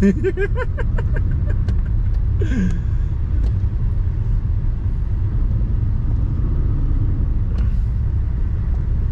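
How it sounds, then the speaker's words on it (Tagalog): Heavy road traffic heard from a 400cc scooter: a steady, loud low engine rumble with passing vehicles, a brief brake hiss, and a voice talking intermittently over the din. "Ayan, sobrang traffic oh."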